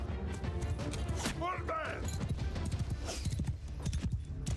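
Cavalry horses gallop in the video game Mount & Blade II: Bannerlord, a dense, continuous drumming of hooves with a brief whinny, while someone talks over the action.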